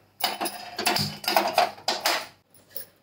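Steel pressure cooker set down on a gas stove while boiling moth beans, several clinking metal knocks and clatters close by, no talking.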